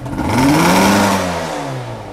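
An RZ250 motorcycle engine revs up close, its deep pitch climbing and then slowly falling back as the throttle eases.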